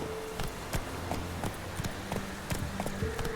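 Horse hooves galloping in The Witcher 3, a steady rhythmic clip-clop of hoofbeats over a low ambient bed, moderately loud and continuous without speech.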